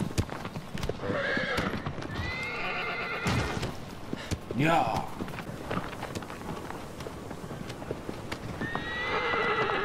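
Hooves clip-clop at a brisk gallop as the horse in Shadow of the Colossus runs along, with a loud neigh midway, while someone briefly speaks.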